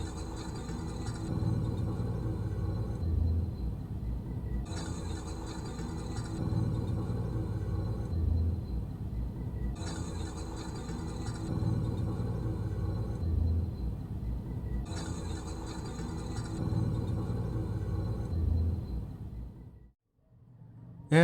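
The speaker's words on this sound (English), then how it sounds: "let's compare the sound, the rumbling sound of this turntable without grease, using grease, gearbox grease," A record player turntable gives off a low, cyclic rumble that swells and fades roughly every five seconds, with a faint whirring above it. The sound is quiet and steady, then breaks off near the end.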